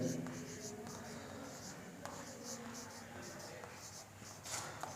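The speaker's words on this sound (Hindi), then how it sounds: "तो इसका आंसर लिखता हूँ मैं, ज़ीरो एरर" A pen writes out an answer to a Class 9 physics question on the zero error of a measuring instrument: faint, continuous scratching strokes with small taps, very quiet under room noise.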